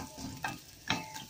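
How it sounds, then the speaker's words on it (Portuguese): Garlic and onion fry in a sausage sauce in a pan, a low steady sizzle broken by two short scraping stirs, close up and with no talking. "Agora o nosso molhinho tá quase pronto, quase frita a cebola, quase frito o alho, aliás."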